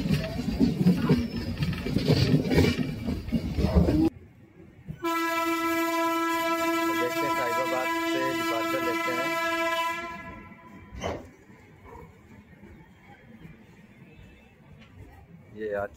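Gomti Express train running from New Delhi toward Kanpur: rumbling carriage noise, then a long, loud, steady horn blast lasting several seconds, fading back to rolling wheel and track sounds.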